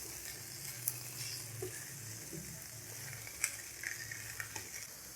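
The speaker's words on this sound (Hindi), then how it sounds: "इनको भी हल्का सा हमने रोस्ट ही करना है।" Green chillies and coriander roast in a hot pan with a steady, quiet sizzle, broken by a few sharp pops and spatters and faint scraping stirs.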